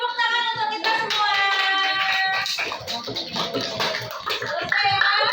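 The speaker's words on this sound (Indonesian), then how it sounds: "Beri tepuk tangan untuk kita semua." Classroom of primary school children clapping their hands together in unison, loud and close, mixed with youthful voices calling and singing over the claps.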